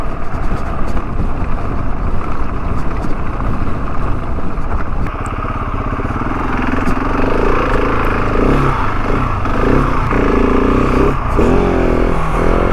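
A KTM 690 Enduro R dual sport motorcycle ridden near Benton City, its steady engine drone mixed with heavy wind rush, rising into louder revs with shifting pitch in the second half.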